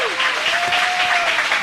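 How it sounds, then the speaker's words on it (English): Studio audience at a late-night talk show breaks into loud, steady applause that fills the whole short stretch, with a faint tonal whistle running underneath. "Ladies and gentlemen, round of applause for yourself real quick."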